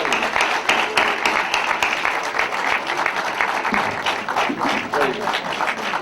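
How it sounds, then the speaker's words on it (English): Congregation at a Los Angeles mosque applauding Brother Rasul, sustained dense clapping that fills the room at an even level, with scattered sharper claps standing out and faint crowd murmur underneath. "Round of applause going for Brother Rasul."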